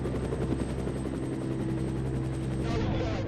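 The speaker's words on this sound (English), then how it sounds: "A chopper's also been scrambled." A police helicopter flies overhead, its rotor beating in a steady, rapid chop that stays loud and close throughout, then thins slightly near the end.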